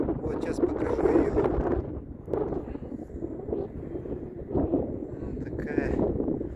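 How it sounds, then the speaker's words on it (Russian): Wind gusting during a dust storm over Ust-Kan in the Altai Republic, a steady low rushing roar buffeting the microphone, with a voice talking over it. "Что-то ветер, пылевая буря."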